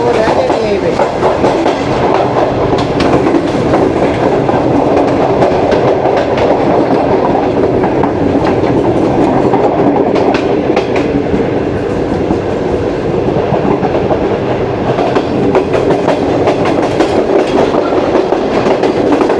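Continuous loud rumble of the New Islamabad Express rolling over rails on its inaugural run, with steady clickety-clack of wagon wheels throughout.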